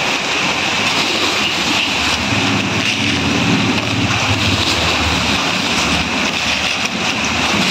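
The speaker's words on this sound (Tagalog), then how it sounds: "Pero ngayon ito na ulan na, lakas ng ulan." Steady, loud, broadband hiss of heavy rain pours continuously with a low rumble underneath, unbroken throughout.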